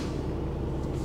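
A short, steady hiss as a vehicle's air compressor releases pressure, with a low engine rumble underneath and no voices.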